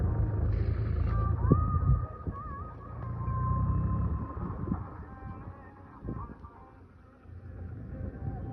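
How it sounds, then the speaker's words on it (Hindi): A tractor and a JCB excavator cut soil beside the Ganges in a village, giving a steady low engine drone with whining tonal shifts and occasional clunks, at moderate distance. "इधर देखिए माटी कटा रहा है ट्रैक्टर से। ये रहा जेसीबी।"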